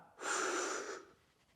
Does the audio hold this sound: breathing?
yes